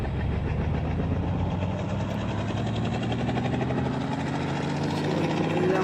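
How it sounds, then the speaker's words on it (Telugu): A helicopter engine in a video game spins up and runs, a continuous loud whirring drone with rising engine tones, steady and close throughout with no talking. "సో మనము కార్లో కాకుండా ఈసారి హెలికాప్టర్లో వెళ్ళాలన్నమాట"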